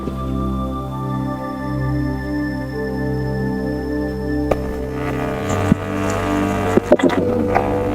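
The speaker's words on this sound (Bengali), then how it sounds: "বাইক স্টার্ট করে ফেলেছি।" A nine-year-old Bajaj Pulsar RS200 motorcycle idles just after starting, its steady low engine hum close and continuous, with a few sharper clicks and knocks toward the end.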